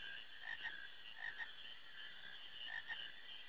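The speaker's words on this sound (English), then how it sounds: "Queena, do you want this frog?" A frog in the Final Fantasy IX marshland croaks in three pairs of chirpy, ribbity calls evenly spaced over a soft ambient game background, with no voices.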